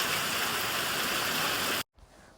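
Heavy rain pours outside in a dense, steady hiss, loud and close, then cuts off abruptly near the end, leaving a faint quiet background.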